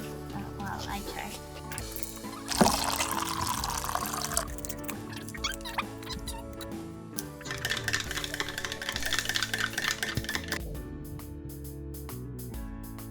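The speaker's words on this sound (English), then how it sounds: "you're just mixing the water and the powder before you soak the handful" Amino acid powder is stirred into water in small cup-sized bottles. Close liquid sloshing and swirling come in bursts, with a sharp knock partway through, while voices talk over the mixing.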